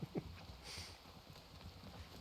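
Horse hooves clip-clop faintly in a western role-play video game, a few soft hoof steps over low background ambience.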